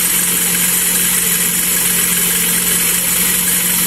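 A car engine runs at a steady idle just after being started, a loud, close, even rumble with a constant low hum and no talking.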